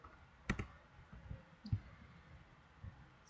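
Keys clicking on a computer keyboard, a few faint, sparse taps with one quick double click, heard close in a quiet room.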